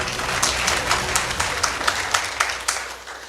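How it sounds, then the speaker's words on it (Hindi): Audience at a business seminar clapping, a loud, dense burst of applause with sharp individual claps standing out, close and sustained for a few seconds before easing slightly. "सर के लिए तालियां बजा दो यार"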